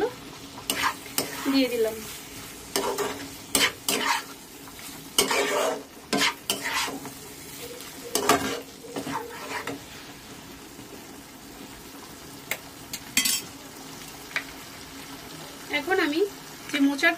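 Fried prawns are stirred into a sizzling pan of banana flower curry, with bursts of spoon scraping against the pan over a steady low frying hiss and a short spoken remark.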